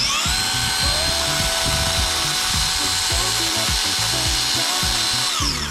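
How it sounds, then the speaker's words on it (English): A high, steady whine of a 20-volt cordless chainsaw runs throughout, loud and close, with a rough low chatter as it bites into a log being carved. "use the more lightweight 20-volt chainsaw here and try to cut away a little bit more of the outer surrounding material"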